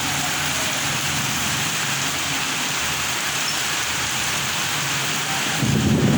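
Heavy rain pours steadily across a town, with loud, unbroken hiss and patter on surfaces. Deep rolling thunder swells beneath it and grows louder near the end.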